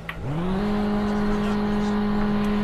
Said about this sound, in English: as we're going to be starting the engine